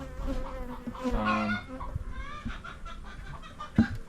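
Honeybees drone steadily around an open hive full of capped honey, a close, continuous buzzing with shifting pitch and a few sharper knocks and rustles mixed in.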